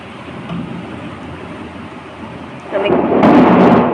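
Steady rain patters in the background, then a loud roll of thunder swells in near the end and rumbles on.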